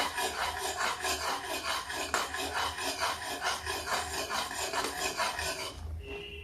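A spoon scrapes around a pot of thick rice kheer sweetened with jaggery powder. The stirring is steady and rhythmic, with close, gritty rasping strokes for about six seconds before it stops.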